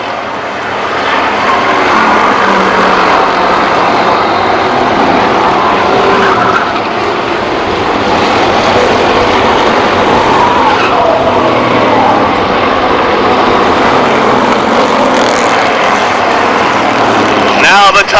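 Race cars on an oval track in a 2003 event roar through the turns, their engines droning loudly and continuously with rising and falling pitch as the pack runs nose to tail.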